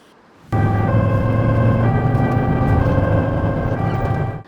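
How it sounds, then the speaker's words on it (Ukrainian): An ambulance siren switches on abruptly after a quiet moment and sounds loud and continuous nearby, with a steady wailing tone and engine rumble underneath until it cuts off at the end. "Вмикає сирену та чимдуж поспішає до госпіталю."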